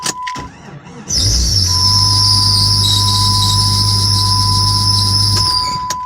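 Squeaking engine belt on a Jeep: after a brief lull the engine starts and a steady, piercing high squeal rides over its low running hum for several seconds, close and loud.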